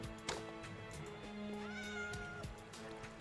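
A cat meows at close range, sustained, wavering cries with a caterwauling edge, heard over a faint steady background hum with a few small knocks.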